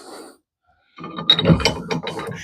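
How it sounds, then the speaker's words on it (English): Adjustable trailer hitch being locked into place, giving a short burst of metallic clunks and ratcheting clicks after a brief pause, close and fairly loud. "you can just go ahead and lock this bad boy in place"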